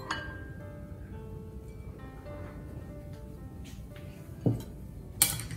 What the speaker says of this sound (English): Now we mix it really well.